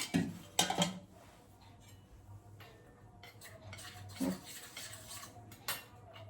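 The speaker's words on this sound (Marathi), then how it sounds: "छान असं हे मिक्स करून घेते." A spoon clinks against a glass while stirring cold milk for an almond shake, with a few sharp, bright taps in bursts and a faint scraping in between, close and fairly quiet.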